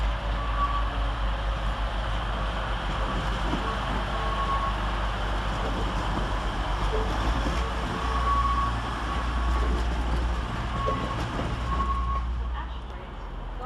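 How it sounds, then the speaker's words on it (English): A Class 185 TransPennine Express diesel train pulls out of Manchester Piccadilly station with a steady low engine rumble and faint tonal whines, holding level before easing off at the end. "Departing next 10 minutes late is 185116"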